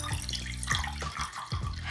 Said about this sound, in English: you're gonna take some water and take your container and fill it up